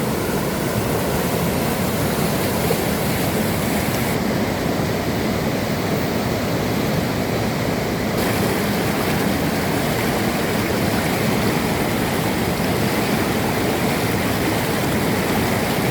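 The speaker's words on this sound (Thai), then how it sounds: "เบิ้งสายน้ำโอ้เย็นดีขนาด" Flowing stream water outdoors in nature during net fishing, a steady, loud rushing wash that stays constant throughout with no talk.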